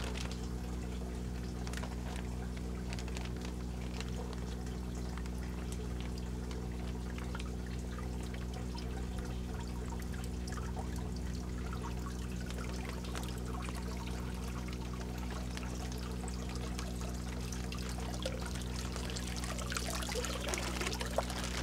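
Tilapia are poured from a container into the water of a backyard aquaponics system, giving a long, continuous pouring and trickling splash with a steady hum underneath and no speech.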